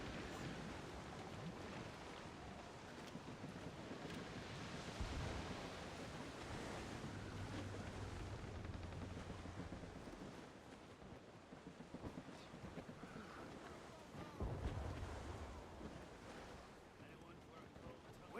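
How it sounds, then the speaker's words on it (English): Strong wind howling across open sea in the Assassin's Creed Rogue game, a steady roaring gust layered with crashing waves and creaking sailing ship, with brief surges of louder swell. "That wind's trouble, Captain Coleman."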